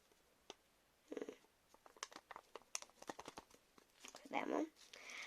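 Crinkly paper packet handled and torn open close by, with bursts of rustling and crackling, quiet at first and louder toward the end.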